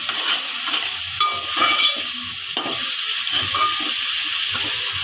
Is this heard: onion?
yes